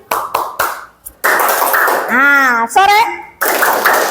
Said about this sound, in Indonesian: Kalau sore itu tepuknya 3 kali